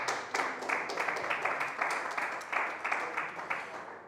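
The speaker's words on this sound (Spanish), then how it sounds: "dale un fuerte aplauso" Church congregation clapping in a loud, steady wash of applause with rhythmic pulses throughout, no voices standing out above it.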